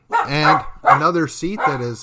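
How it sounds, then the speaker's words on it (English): Dog barks repeatedly in the background, several loud sharp yaps overlapping a man's speech at close range. "I apologize for the dog difficulties."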